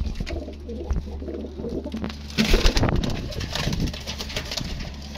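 Teddy pigeons in a loft give soft, repeated cooing over a steady low hum, with light fluttering and shuffling bursts around the middle.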